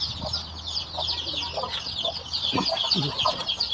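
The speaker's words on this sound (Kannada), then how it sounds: "ಇದು ನಾಟಿ ಕೋಳಿಗಳು" Several native country chickens cluck and chatter nearby inside a mesh-enclosed shed in an ongoing, irregular murmur, with occasional sharper calls rising above the flock.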